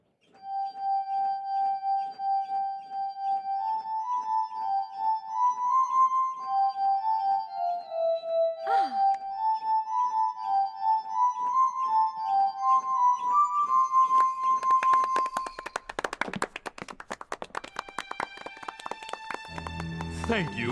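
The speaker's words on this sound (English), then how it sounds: "This is an invention of Dr. Franklin's called the glass harmonica." A glass harmonica of rotating, cranked glass bowls, the instrument invented by Benjamin Franklin, plays a slow, sustained, singing melody. Later in the clip, fuller tones and busier music swell in over it.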